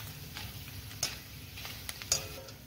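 Homemade potato chips frying in hot oil make a faint, steady sizzle, with scattered soft ticks and a couple of sharper pops, heard close with no talking.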